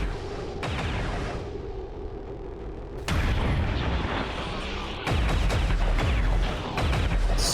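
Gunfire and heavy weapon blasts from the video game XCOM 2, loud booming shots in overlapping waves with rumbling tails, dense and continuous over the whole stretch.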